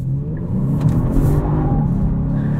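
A 2022 Genesis G70 3.3T AWD with traction control off is driven hard in Sport Plus mode, its engine giving a steady, loud, low droning rumble with slight revving swells from inside the cabin.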